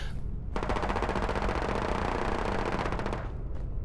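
Rapid automatic turret gunfire in a video game crackles in a dense, fast burst lasting about three seconds, loud and close, with no talk over it.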